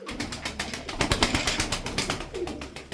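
Game pigeons of several kinds, including Sarıkır, Ballı and Çakmaklı birds, coo softly and close by in rapid repeated pulses, with several birds overlapping.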